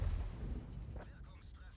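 An artillery shell fired from the V5 in World of Tanks lands as a low, rumbling boom at the start and then fades under continuing game noise and some voice chatter.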